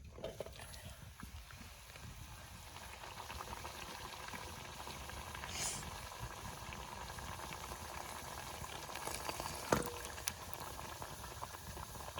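Luchi puffing in hot oil, a soft, steady bubbling sizzle throughout, fairly quiet, with a couple of faint utensil taps.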